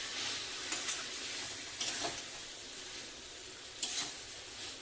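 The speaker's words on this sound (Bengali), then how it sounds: "এবারে সয়াবিনটা দিয়ে দিচ্ছি, মশলা মাখানো সয়াবিনটা। এটা দিয়েও বেশ কিছুক্ষণ কষিয়ে নেব আগে।" Spiced soybean chunks sizzle in hot oil in a pan for soyabean kosa while being stirred, giving a steady close frying hiss broken by a few brief scraping strokes, with no voices.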